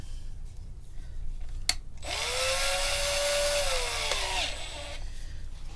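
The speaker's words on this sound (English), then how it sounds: "Now we're not going to drill all the way through, just maybe 4 mil down." A power drill with a roughly 2 mm bit bores a shallow hole into a guitar body's wood during body carving, a steady high whine lasting about two and a half seconds before spinning down, alone and close.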